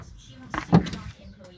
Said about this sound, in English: Let's open that door.